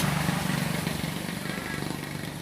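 A fuel-injected motorcycle engine idling nearby, a steady rapid chugging putter at moderate level throughout.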